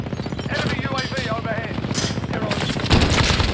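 Rapid automatic gunfire from Call of Duty Warzone rattles in continuous bursts, loud and close, with a heavier thump near the end and voice chatter mixed faintly underneath.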